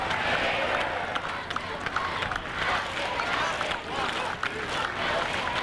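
A large crowd of fans fills the stands at a high school football sectional game at Roncalli High School, a broad, steady roar of voices and scattered clapping with a commentator talking over it.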